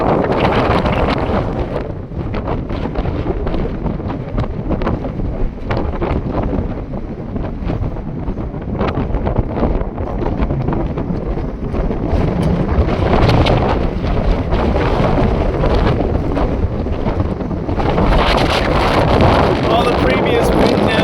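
Strong wind buffeting a microphone at an outdoor little house build site, a loud continuous roar and rumble with gusts that swell and ease throughout, and no speech.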